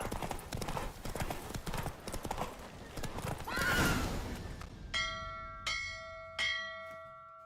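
Hooves clip-clop rapidly as a horse gallops in a race in The Witcher 3 video game, with a whinny partway through, then three distinct bell strikes ring out and decay near the end.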